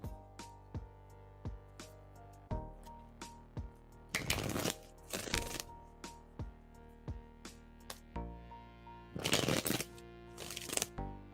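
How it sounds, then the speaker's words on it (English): Tarot cards are shuffled close up in a steady run of soft riffles and taps, with several louder bursts of riffling. No voices are heard. "I'm shuffling for you right now."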